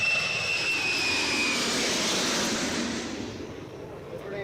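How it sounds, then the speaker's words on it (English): A jet transport aircraft touches down at a Vietnam airbase during the war, its engines a loud, broad roar that holds steady and then gradually eases as the plane rolls out. "when a jet transport touches down at Tan Son Nhut or Da Nang."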